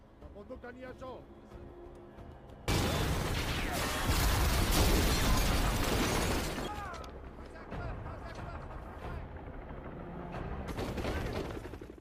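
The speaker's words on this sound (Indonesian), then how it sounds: "dalam baku tembak yang dramatis, sekutu Taylor terjebak dalam lingkaran kematian" Dramatic movie shootout with sustained automatic gunfire bursts and fusillades, loud and dense for several seconds, alongside mechanical clanks, with a narrator talking before and after the firefight.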